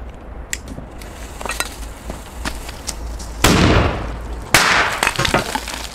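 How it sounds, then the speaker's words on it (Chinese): A large firecracker set off inside a big vat filled to the brim with water gives two sharp, loud bursts a second apart, each followed by splashing crackle, after a stretch of quieter rustling. "OK， 我现在点大炮啊"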